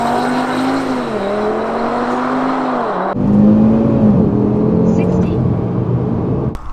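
A 2020 Audi RS3 engine drones steadily then climbs in pitch, dipping briefly at a gear change before revving up again during a 0-60 mph run, heard from inside the quiet cabin.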